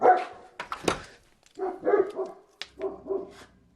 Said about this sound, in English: quit your barking, boy